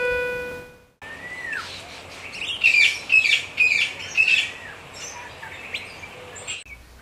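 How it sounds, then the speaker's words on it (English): White-throated magpie jays calling in a Costa Rican setting: a run of loud, raucous, squawking calls, several in quick succession, with a steady hiss of ambient background behind them. "White-throated magpie jays, Calochita formosa, patrol the entire region in raucous gangs called murders."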